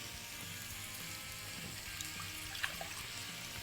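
Two cups of water poured in a home kitchen while peppers, hot peppers and garlic fry nearby; a steady, fairly quiet wash of running and splashing liquid with faint sizzling beneath, no talk.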